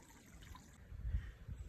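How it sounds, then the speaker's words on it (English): Running water flowing in a drainage ditch beside a house, a soft trickle and gurgle that swells in low burbles toward the end, with no voices. "here's the running water in my drainage ditch next to my house"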